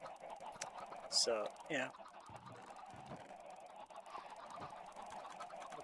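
Minecraft chickens cluck in the game, two short clucks close together followed by quieter ambience, with a person talking briefly over it.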